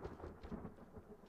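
Rain in the survival video game The Forest, a low, dull rumbling wash with soft patter, faint and continuous over a short stretch.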